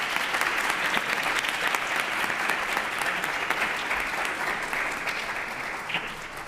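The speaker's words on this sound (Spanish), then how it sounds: "pediría a todos de nuevo un aplauso para ellos" A university round-table audience applauds the student panelists in a continuous, full-bodied burst that stays steady and then eases slightly toward the end, with no one speaking over it.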